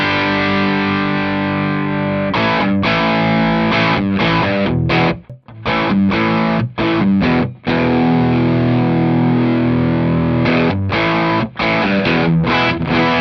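Electric guitar driven through a Klon overdrive pedal with the gain pushed up, playing loud, saturated chords and riffs in bursts with short gaps between phrases, including a brief near-silent break midway.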